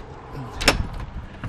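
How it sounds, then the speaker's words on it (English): A friction-hinge entry door on a 2017 Black Stone 270RKS RV swings open with a single short knock-like thud and soft rattle, close by, amid quiet surroundings. "Friction hinge door. You just leave it where you want it and it stays."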